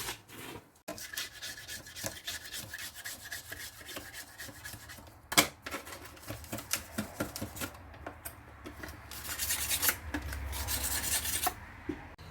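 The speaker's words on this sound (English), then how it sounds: "Scrape the board off really clean." A spreader scrapes leftover body filler off a mixing board during a Ford F-150 fender repair, making repeated close rasping strokes, with a sharp knock midway and a louder, harsher scrape toward the end.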